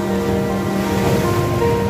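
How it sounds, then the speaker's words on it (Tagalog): Ocean waves at the Dipolog City boulevard collide and wash in a continuous roar of surf, close and loud, with a low rumble throughout. "Nagsalpukan ang mga alon."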